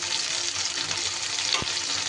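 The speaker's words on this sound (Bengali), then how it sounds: "নুন আর হলুদ দিয়ে আমি কচিটা বেশ ভালো করে কিছু সময় ধরে ভাজা ভাজা করে নেব" Boiled taro pieces fry with salt and turmeric in a pan, giving a dense, steady hiss of sizzling oil close by and a single soft knock of a spatula, with no voices.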